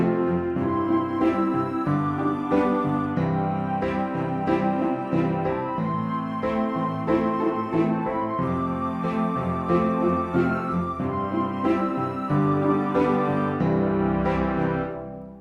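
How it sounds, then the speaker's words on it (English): A full orchestral passage with sustained strings and flute and clarinet melody lines, rich and continuous, swelling gently before fading at the end. "it sounds like this with all the strings and the clarinet"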